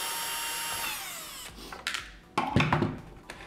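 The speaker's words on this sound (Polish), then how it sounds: "Na pewno trzeba wykręcić ten wkręt" A power screwdriver works on a screw inside a Nivona espresso machine, giving a brief whirring run that winds down, followed by clattering and knocking handling noises close by.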